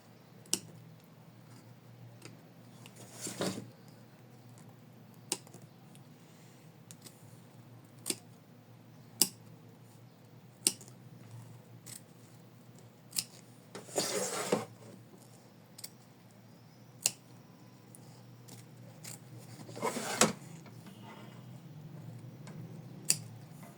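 Scissors trimming felt after machine stitching of an in-the-hoop felt heart, a sparse series of quiet, sharp snips spaced a few seconds apart, with a couple of longer rustling cuts, close and alone over a soft hum.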